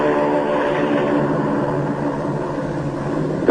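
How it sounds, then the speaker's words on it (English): A Navy PBM flying boat on its takeoff run across the water during a polar expedition, a steady loud droning roar of propeller engines that holds throughout without a break. "On the water, the great PBM makes her takeoff run."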